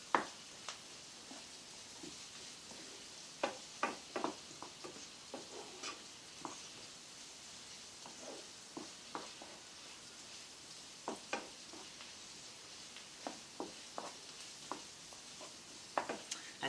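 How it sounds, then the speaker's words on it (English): Roughly chopped garlic hisses faintly in a pan while a spoon scrapes and taps in scattered clicks, all quiet and close without any talk. "now I'm going to add the garlic"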